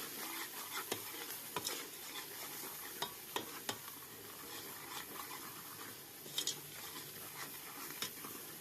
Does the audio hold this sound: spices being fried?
yes